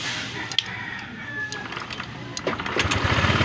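Engine running after a fuel pump repair, a continuous rough mechanical rumble that builds slightly louder toward the end, with a few sharp clicks along the way.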